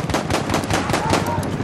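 Rapid automatic gunfire in the World War I shooter Battlefield 1, a dense, loud and continuous stream of shots filling the whole moment.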